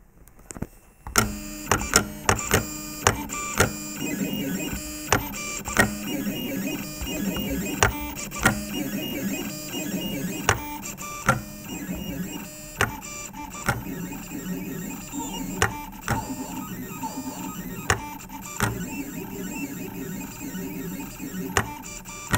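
A Mutoh Scriber ET203 printer plots large characters, producing a continuous mechanical whir with sharp clicks and faint musical tones as its pen traces round shapes, loud and close throughout.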